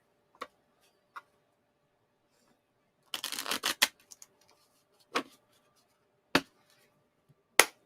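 Tarot cards shuffled by hand during a reading, a dense ruffling burst about half a second long amid scattered sharp card taps and snaps, close and quiet with no talk.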